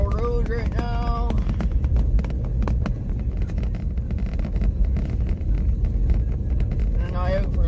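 A vehicle rolls steadily down Red Squirrel Road, a backwoods logging route, with a constant low rumble and wind buffeting throughout. Some brief tonal sounds rise near the start and the end.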